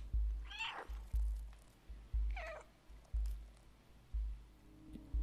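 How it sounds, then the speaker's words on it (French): A cat meows twice in the video game Stray, two clear rising calls about two seconds apart, set over a steady thumping rhythmic background. "J'entends un bruit quand je miaule derrière."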